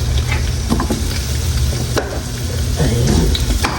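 Onions sauté in a hot pan of sardines and tomatoes, a dense, loud sizzle with scattered ticks and scrapes from stirring.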